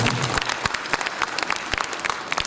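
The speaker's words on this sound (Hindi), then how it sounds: "तालियों से स्वागत" An audience at a music programme gives a welcoming round of applause, close and fairly loud, with distinct individual claps standing out of the steady clatter throughout.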